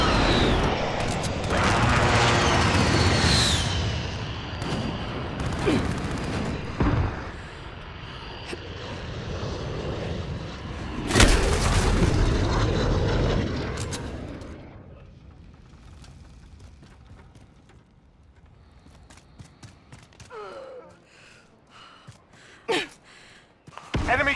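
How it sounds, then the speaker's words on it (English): An airstrike in Call of Duty roars overhead as a loud, sustained aircraft flyover with heavy rumbling blasts for the first fifteen seconds, then fades to quieter scattered noises and brief bursts. "Enemy care package inbound airstrike."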